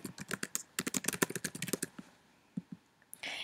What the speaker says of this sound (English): And you type in your text.